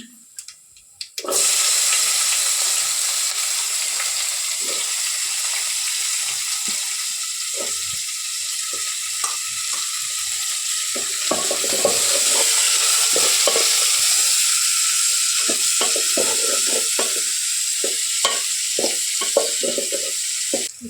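After a quiet start, chana dal, onion and green chillies hit a hot pan and fry with a continuous close sizzle and hiss, broken by repeated spatula scrapes and stirring knocks for the rest of the time.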